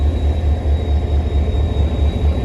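Shah Latif passenger train hauled by HGMU 30R locomotive 8223 standing at Ranpethani railway station in Thatta, Sindh: a steady, loud low diesel rumble with a faint high whine, continuous throughout.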